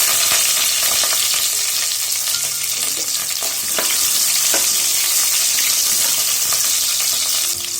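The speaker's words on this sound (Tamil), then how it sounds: "வெங்காயம் பச்சை வாசனை போற வரைக்கும் வதக்கிக்கங்க" Small onions, green chilies, curry leaves and urad dal sautéing in hot oil in a pan, a continuous dense sizzle with occasional clicks and scrapes of stirring, close and loud, no voices.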